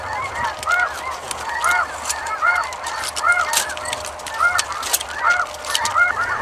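Adult snow geese honk repeatedly while flying in over a decoy spread at sunrise, a dense, overlapping chorus of loud nasal calls from many birds at once, steady throughout with no talking.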